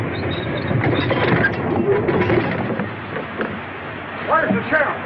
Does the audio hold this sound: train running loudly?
yes